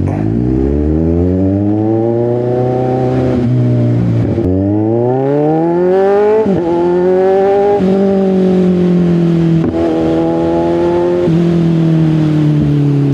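A Kawasaki Z1000R motorcycle engine roars loudly and close while riding, its pitch climbing steadily through the revs and dropping sharply at several gear changes, with no voices.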